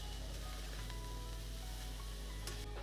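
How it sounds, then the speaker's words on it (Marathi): Hakka noodles stir-fried with vegetables in a pan over a high flame, giving a steady, continuous sizzle that carries close and even through the whole stretch, with a few light scrapes of stirring. "नूडल्स पण 1 मिनिटभर आपण त्या भाज्यांमध्ये परतायचे आहेत."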